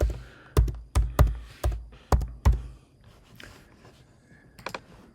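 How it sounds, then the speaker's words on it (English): Several sharp keystrokes tapped on a computer keyboard as a single word is typed, about six distinct clacks in an uneven rhythm, close and fairly loud, followed by quieter shuffling and a couple of final taps. "I'm just going to type in a word."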